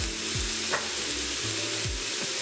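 Ginger garlic paste frying in a pan for egg biryani, a steady close sizzle with a few scraping stirs of a utensil against the pan, and no talking.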